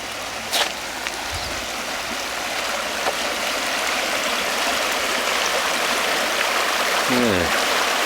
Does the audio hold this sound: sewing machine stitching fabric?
no